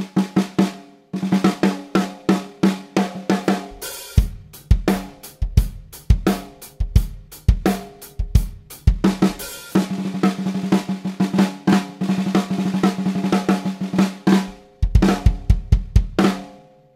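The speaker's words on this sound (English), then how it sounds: "So that's the sound of the snare drum." A snare drum with the snares engaged, picked up by overhead and close microphones, struck repeatedly in loud, crisp hits with rolls and varied rhythmic patterns, heard alone without talking.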